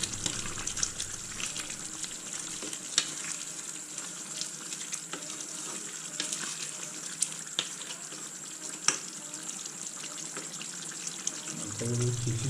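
Local chicken meat simmers and sizzles in a pan in a home kitchen, a steady bubbling hiss with faint clinks and a low voice entering at the very end.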